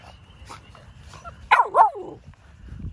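Registered male puppies for sale give two sharp, close barks in quick succession, standing out against faint low background noise with a brief whine after.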